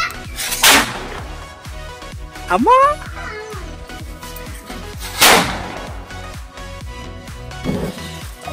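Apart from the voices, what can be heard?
paper sound cracker firecracker exploding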